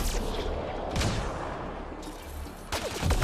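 Rifle fire in Mass Effect: Andromeda, a dense, booming stream of gunshots with loud blasts recurring through the stretch, no voices.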